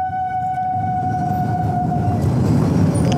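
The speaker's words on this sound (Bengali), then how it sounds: "ট্রেন গেল" A train passing overhead near Dum Dum, heard from the road below as a loud, steady low rumble and rattle that builds toward the end, with a sustained tonal whine fading midway.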